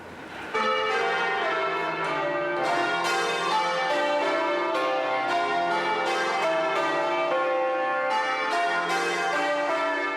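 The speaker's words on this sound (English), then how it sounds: "Today, the bells are rung every week by a group of bell ringers who work in the city." London's Bow bells ring out from the church tower in a rapid, continuous peal of overlapping bronze strikes, loud and sustained with no voices.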